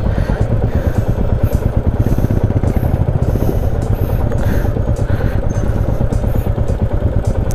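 Royal Enfield motorcycle engine idling at a lakeside viewpoint, a loud close steady thumping rumble that holds throughout without a clear cut-off.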